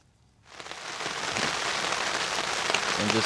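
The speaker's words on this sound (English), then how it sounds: "And just like that, it's raining." Rain begins suddenly on an overland camp in a forest, rising from near silence within half a second into a steady, close hiss of drops pattering on surfaces that continues evenly to the end.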